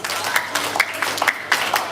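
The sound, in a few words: audience applause, a short 4-H clap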